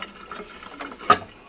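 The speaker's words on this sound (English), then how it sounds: "we'll just run water over the top until the safety interlock has dropped" Tap water runs over the lid of a pressure cooker to bring the pressure down, a brief close splashing wash with one louder gush near the end; no voices.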